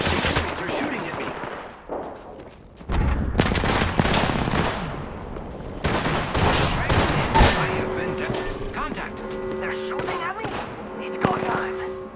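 Gunfire in the video game Apex Legends during a ranked arena match, loud bursts of automatic weapon fire and sharp shots in rapid clusters with short gaps, dense and close, with other game effects around them.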